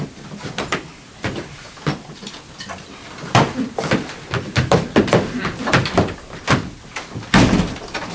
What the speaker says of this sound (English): I can't open the damn door.